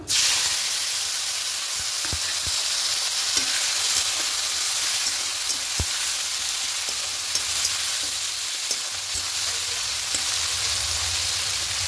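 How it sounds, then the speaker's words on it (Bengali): Chopped onion and tomato frying in oil with whole spices in a pan, a loud, continuous close-up sizzle and hiss broken by faint scraping stirs. "এবার একটু ভেজে নেব।"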